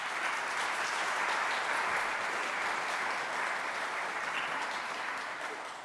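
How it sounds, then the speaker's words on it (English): Steady, even applause from an audience at a business AGM goes on for about six seconds at moderate volume, a continuous wash of many hands that fades slightly at the close. "can you give her a round of applause?"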